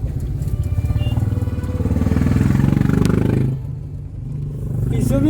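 A Royal Enfield Bullet motorcycle on a rough road trip gives a steady, close, loud low thumping engine beat that dips briefly near the end, then picks up again.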